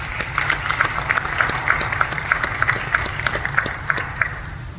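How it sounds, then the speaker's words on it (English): A church audience applauds a woman, a modest crowd clapping with some individual claps standing out in an uneven rhythm over a low background hum. "Give her a round of applause for that."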